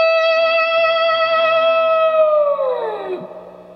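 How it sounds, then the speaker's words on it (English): A slow slide guitar lick from a song rings out clean, a sustained note held for a couple of seconds, then the slide glides smoothly downward and fades, alone without talk. "Okay, so applying the slide, it should sound like this, real slow."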